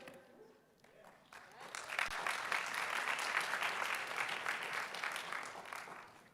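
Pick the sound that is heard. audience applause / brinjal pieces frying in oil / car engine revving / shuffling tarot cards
audience applause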